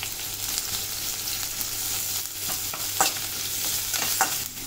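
Chopped onion, medium-cut and added after garlic, frying and being stirred in a pan for a traditional Kandvani onion dish; a steady broad sizzle with occasional scraping stir clicks, close and alone without talk.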